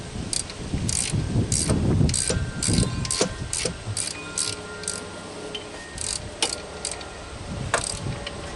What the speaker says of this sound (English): all we got to do is tighten up the bolts and put the belt back on